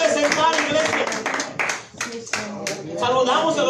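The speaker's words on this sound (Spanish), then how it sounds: "Den un aplauso fuerte al Señor" A church congregation claps together in a lively burst, hands ringing close and bright, briefly thinning before resuming, while a voice speaks over the clapping.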